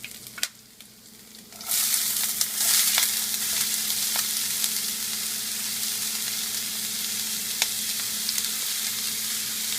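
Onion drops into hot oil already holding green chili and curry leaves, the pan going quickly from quiet to a loud, continuous sizzle with occasional spatula scrapes and taps, close by and without speech.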